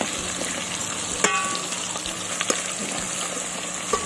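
Beef caldereta fries in a pot with a steady sizzle and bubbling, plus a few clinks and stirring knocks, heard close and alone.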